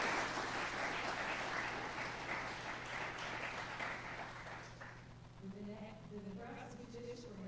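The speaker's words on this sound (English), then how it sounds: "if we can just give them all a round of applause" An audience at McCook High School applauds a visiting state supreme court session, the steady clapping gradually thinning and fading out, after which a voice begins speaking over a quiet room.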